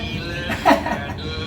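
A single short cough near the microphone in a quiet indoor room, set against a faint background hiss.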